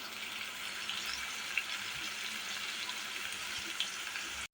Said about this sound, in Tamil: தக்காளி ஆட் பண்ணிடுச்சு, தக்காளி வதங்கட்டும்.